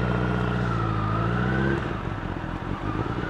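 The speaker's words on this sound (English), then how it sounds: "Okay, more cars to pass." A motorcycle rides along a road in Kansai, Japan, passing cars, with a steady engine drone that shifts partway through to a rougher, more broken rumble as traffic goes by.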